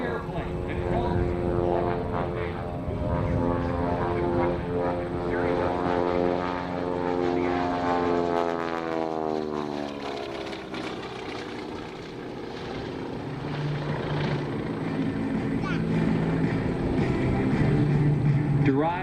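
A Beechcraft C-45, the twin Beech 18 (CT-128), taxis past at the 2024 Rochester airshow: loud droning twin propellers whose pitch sweeps as it passes close, with a voice speaking over it.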